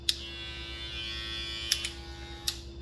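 A Gamma hair clipper fitted with a Fusion blade runs with a steady electric buzz and a low hum underneath. A few sharp clicks or taps break in near the start and toward the end, at fairly low volume.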